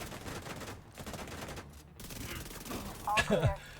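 Dense, rapid gunfire from an enemy firefight in The Division 2 video game, with continuous bursts of shots throughout and a sharper, louder volley near the end.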